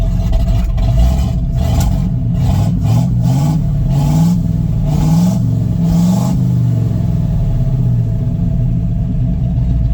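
A 1967 Chevrolet C50 truck engine revs up and down repeatedly with a deep, loud, moaning rumble, heard close and steady throughout with a slight hesitation down low.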